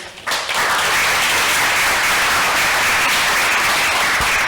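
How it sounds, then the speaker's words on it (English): Audience applause at a GameFi conference session, a loud sustained burst of many people clapping that starts abruptly and carries on steadily to the end without any speech. "Let's give them a round of applause, shall we?"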